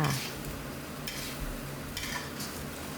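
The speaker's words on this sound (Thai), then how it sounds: "ผัดให้เข้ากันดีค่ะ ผัดไปเรื่อย ๆ จนกระทั่ง พริกนะคะเป็นสีใสนะคะ" Minced pork with bamboo shoots and chili being stir-fried in a pan, a steady soft sizzle with scraping and stirring strokes throughout, close and fairly quiet, with no talking.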